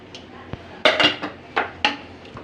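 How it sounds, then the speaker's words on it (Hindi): A pressure cooker holding a cooked chickpea lentil and pumpkin curry is opened, giving several sharp metallic clanks and scrapes of lid against pot, close and fairly loud, with quiet gaps between them. "अब हम कुकर खोलेंगे।"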